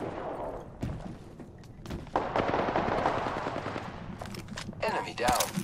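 Apex Legends battle gunfire: rapid automatic bursts and single shots crackle close and loud over several seconds, with a brief game voice line heard among the shots.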